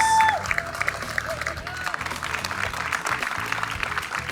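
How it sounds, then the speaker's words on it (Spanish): An audience applauds the Thunderbox fitness team at a televised event, with scattered clapping and a few cheers under crowd murmur and an announcer's voice. "un aplauso grande para el team de Thunderbox"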